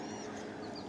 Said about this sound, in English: God, there's turkeys everywhere here right now.